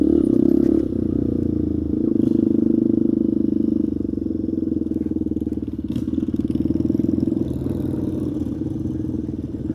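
A busy motorcycle stop on a Benelli ride, with a loud, steady engine drone dominated by a nearby idling bike and faint clatter from other bikes around, with no talk.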